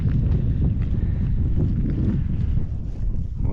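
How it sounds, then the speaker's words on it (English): Gusty wind blows outdoors on a cold, rainy day in remote Newfoundland, a dense low rumble buffeting the microphone continuously, loud and unbroken. "it's getting windy and cold"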